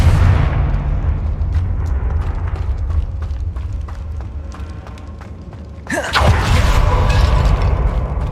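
A Confringo fire spell in Hogwarts Legacy bursts into a loud explosive blast partway through, breaking over a steady rumble of game sound and background effects.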